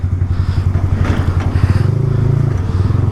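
A Yamaha R15 motorcycle with a quickshifter revs loudly and close, its engine note pulsing and rising through gear changes with a rough, throbbing exhaust.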